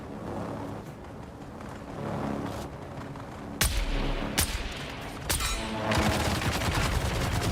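Gunfire in the video game Dune Awakening, with several sharp loud shots cracking over a dense background of game effects and rumble, in close bursts with brief pauses.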